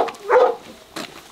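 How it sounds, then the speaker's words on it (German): Hunting pack dogs barking as they are let loose for a driven wild boar hunt in a maize field, with a few sharp close barks and yips in brief bursts. "So, wir können die Hunde loslassen."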